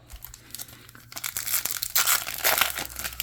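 Topps football trading card packs being ripped open, with crinkly foil tearing and crumpling that builds to a louder, close crackle over a few seconds.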